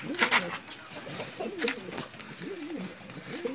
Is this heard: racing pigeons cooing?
yes